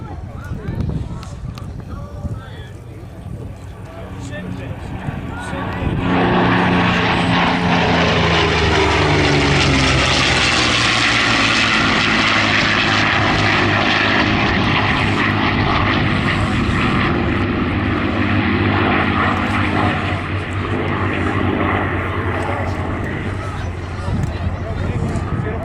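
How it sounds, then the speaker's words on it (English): A Douglas SBD Dauntless propeller aircraft on its takeoff roll at a WWII air show, the engine rising from a rumble to a loud sustained roar that holds and slowly fades. "The Douglas Dauntless, the SBD on the takeoff roll."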